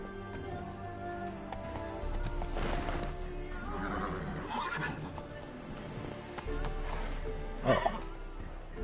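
Roach, the horse in Witcher 3, whinnies and snorts over steady hoofbeats, with a louder neigh near the end and the game's music faintly underneath.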